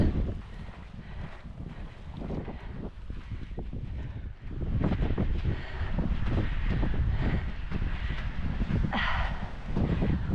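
Strong coastal wind at a wild beach buffets the microphone in rough, rumbling gusts, rising and falling continuously without any talking.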